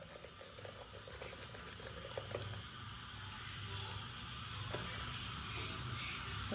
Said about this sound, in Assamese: জিৰাখিনি ফুটি ল'ব দিম